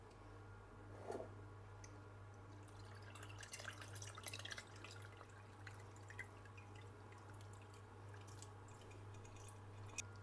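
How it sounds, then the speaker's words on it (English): Blackberry balsamic reduction strains slowly into a jug, heard as faint, sparse drips and soft liquid squishes in a quiet room. "I'm just going to strain my mixture through this directly into a jug"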